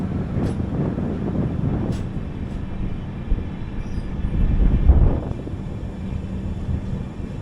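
Patna-Ernakulam Express passing on the Arakkonam-Kanchipuram-Chengalpattu line, heard from aboard another train as a steady low rumble with rattling wagons and wind buffeting, swelling briefly midway before settling.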